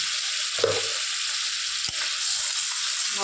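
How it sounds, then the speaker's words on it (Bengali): Spice paste with turmeric and salt being sautéed in a pan for Bengali tel koi: a constant soft sizzle and hiss, broken by a couple of dull stirring knocks. "ভালো করে মশলাটাকে কষিয়ে নেব।"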